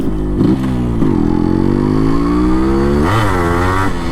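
Yamaha RX100 motorcycle with a changed muffler, close and loud, its engine revving and rising in pitch with sharp exhaust pops and crackles between throttle blips.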